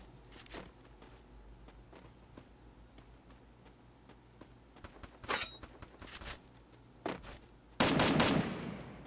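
Distant M4 rifle shots crack sporadically in a Free Fire mobile match, a few sharp bursts standing out over a quiet low hum before a louder, denser roar of fire closes the moment.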